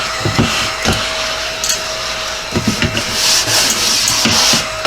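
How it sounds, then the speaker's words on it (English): A small inexpensive desk vacuum hums continuously while sucking up wood debris from a wooden ornament project, with scattered rubbing and clattering ticks of chips, loud and close. "I love this little vacuum, this little desk vacuum"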